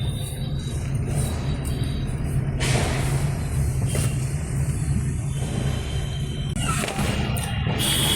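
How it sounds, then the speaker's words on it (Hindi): Sharp bangs of Diwali firecrackers pop in the distance, a few scattered bursts over a steady low rumble of outdoor background noise. "आवाज आ रही होगी पटाखों की।"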